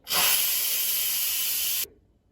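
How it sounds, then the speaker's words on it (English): Pressure steam hisses loud and steady from an Instant Pot valve during quick release after cooking bratwurst, a broad continuous rush lasting nearly two seconds before cutting off abruptly into near silence. "Okay, so let's quick release the steam."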